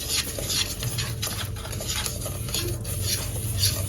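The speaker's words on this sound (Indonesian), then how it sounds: "Aduk hingga tercampur supaya tidak bergumpal pada saat diberi cairan." A spoon stirs dry pudding mix in a pan, giving a soft continuous scraping and rustling with faint rhythmic strokes, fairly quiet and close.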